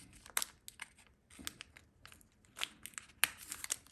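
A trading card pack wrapper, from an Upper Deck UD Series 2 tin box, being cut open with quiet crinkling, snipping and rustling of foil plastic heard up close in short irregular bursts.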